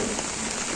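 Rain falls on a rooftop in an even, dense patter, a steady close hiss with no talking.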